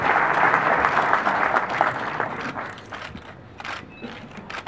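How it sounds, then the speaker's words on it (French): Applause from an audience at the opening of an economic forum in Fez, honouring a cooperation agreement with the Girona chamber of commerce; sustained dense clapping that gradually thins and fades out over a few seconds. "que vous pouvez applaudir"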